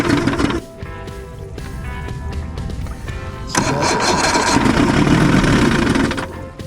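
An Evinrude 150 hp outboard boat engine cranks and catches, then runs up into a loud, rough idle close by, with no talking over it.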